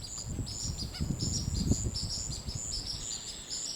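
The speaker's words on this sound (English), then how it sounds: "the wetland comes to life, and these birds come out in their numbers to begin their early morning forage" Birds in a swamp at the Great Icacos Lagoon chirp in rapid repeated bursts during early-morning forage, a high, fairly faint chorus over a low rumbling ambience, with no talking.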